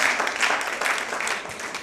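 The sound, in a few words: audience applause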